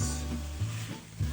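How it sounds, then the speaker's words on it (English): Garlic is stirred into a sizzling pot of beef bourguignon, a soft steady fry with gentle scraping strokes under a low hum, fairly quiet and close. "We're going to add all the garlic. Stir that in for about 2 minutes."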